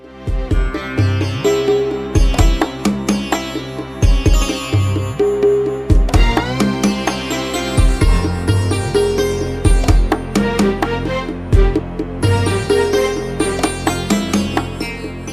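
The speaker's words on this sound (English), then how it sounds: "when most games have a desert section, the music mostly sounds like this" Dense looping video game desert-section background music with plucked, percussive melodic notes over a steady low drone, continuous and fairly loud throughout.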